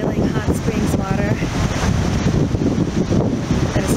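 Boiling hot spring water pours into a cold stream at the Midway basin in Yellowstone, a steady broadband rush of splashing flow with wind buffeting the microphone throughout and a voice speaking over it.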